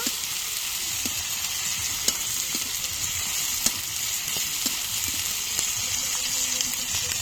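Ginger and garlic paste fries in a pan while being stirred, making a dense, even sizzle close up, punctuated by sharp clicks and taps of the spoon against the pan.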